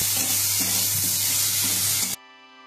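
Potatoes sautéing with ginger-cumin paste, green chili paste and salt, a steady loud sizzle with stirring scrapes and a low hum, cutting off abruptly near the end into quiet.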